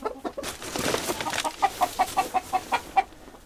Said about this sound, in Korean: 하영 씨는 매일 아침 닭들을 만납니다.